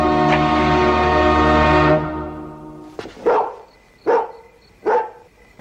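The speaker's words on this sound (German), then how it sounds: "Ist das etwa Ihr Hund?" In a German radio crime drama, a dog gives three loud, evenly spaced barks close by, following a long sustained droning tone that fades out.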